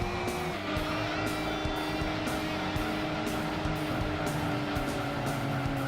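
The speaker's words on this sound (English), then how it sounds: "Interesting sound. Interesting engine sound." A rear-engined, rear-wheel-drive V12 race car in Gran Turismo 2 drones steadily with a buzzing, layered engine note, repeatedly rising in pitch and cutting back as gears change, loud and close with no talk.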